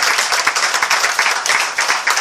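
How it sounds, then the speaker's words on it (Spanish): A church congregation claps together in a fast, rhythmic pattern of sharp, close hand claps, sustained and even throughout. "Dele su ofrenda de palmas al Señor."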